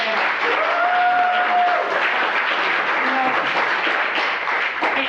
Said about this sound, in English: It's a quick round of applause for Mr. Mason.